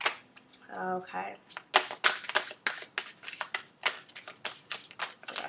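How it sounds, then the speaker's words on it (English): Tarot cards being shuffled, a rapid run of sharp riffling clicks and papery slaps repeating in quick bursts, close and fairly loud, with a brief voice near the start. "Last shuffle."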